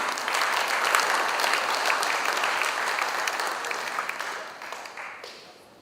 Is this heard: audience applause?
yes